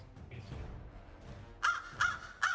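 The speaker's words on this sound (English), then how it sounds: "It's a bird." A large crow-like bird being fed crackers gives three loud, harsh caws spaced evenly about half a second apart near the listener, following a stretch of quiet background rustle.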